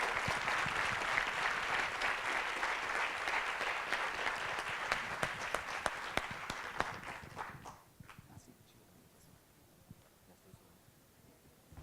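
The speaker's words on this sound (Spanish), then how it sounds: "Démosle un cariñoso aplauso a Jorge Eusebio." Warm audience applause for a guest speaker at a business talk, dense clapping filling the room for about eight seconds before dying away into quiet with a few stray claps.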